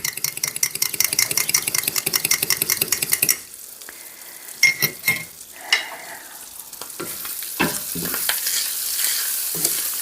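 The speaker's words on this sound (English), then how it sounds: "And I'm going to give it a little whisk." A whisk clatters quickly and rhythmically against a pan while chorizo cooks, a dense, fast metallic rattle over frying sizzle that then breaks into scattered scrapes and clinks under a softer hiss.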